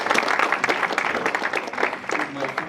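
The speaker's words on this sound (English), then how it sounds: "So let's give them a big round of applause again." Audience applause at a cloud management business talk, a short burst of many hands clapping close and fairly loud, with some talk mixed in underneath.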